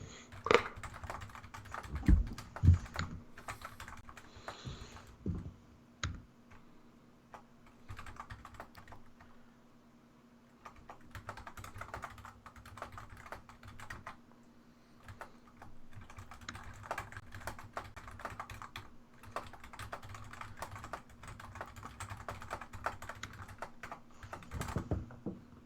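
Keyboard typing in irregular bursts of clicks, fairly close, with quieter pauses between flurries and a faint steady hum underneath.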